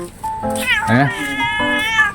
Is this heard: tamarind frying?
no